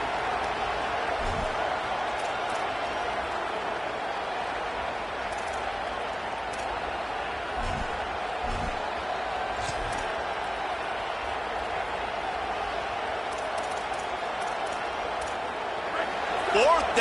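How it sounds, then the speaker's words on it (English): Steady roar of a large football stadium crowd at a Penn State versus Ohio State game, a dense continuous wall of noise held at high volume throughout, with a commentator talking over it. "this crowd is making it miserable on this offense"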